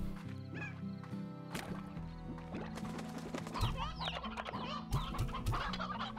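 Chickens cluck and squawk in the Slime Rancher video game, with many overlapping bird calls over a sustained musical background and no speech.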